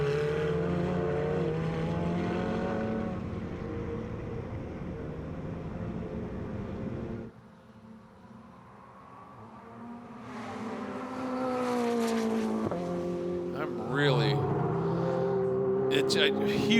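Ferrari Challenge race cars roar past on the track at Sebring, a loud sustained engine howl that drops away, then builds again with rising, shifting pitch as more cars approach, with race commentary running over it.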